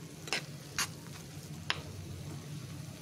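A spatula stirs semolina nonstop in a pan while it cooks down into a sticky mass for white gulab jamun. The stirring is a soft, steady scraping, with a few sharper scrapes and taps against the pan.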